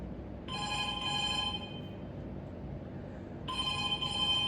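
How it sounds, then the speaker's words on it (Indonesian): A telephone rings in three bursts of bright, trilling electronic bell tones, two close together, a pause, then a third, heard alone against a quiet room hiss. "sebelum nada dering ketiga ini berakhir, kamu sudah harus mengangkat teleponnya."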